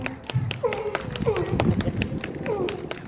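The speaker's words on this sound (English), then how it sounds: "So nice big round of applause." Scattered, loose clapping from a small audience at a penguin show at Blackpool Zoo, individual claps audible rather than a dense roar, with a presenter and someone talking over it.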